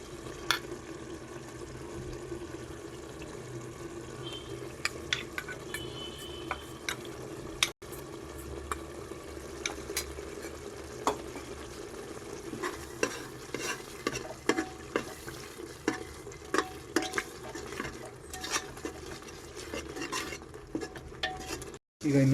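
Thalapakatti dry powder is stirred into biryani masala frying in a pan, giving a continuous close sizzle with frequent scraping and clinking of a spoon against the metal, with no talk throughout.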